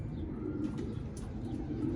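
Pigeons in a loft, including Andalusian birds, cooing softly with a few faint chirps over a steady low background hum, continuous and fairly quiet.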